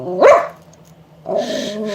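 A dog gives one loud, close bark, then there is a quiet pause, and a second longer bark or growl follows near the end, with no speech.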